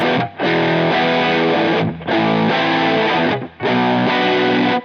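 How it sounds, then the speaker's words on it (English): Loose, fuzzy guitar distortion rings out in three long sustained chords, each cut off by a brief gap, loud and upfront with no voices. "That's not a very tight sounding distortion."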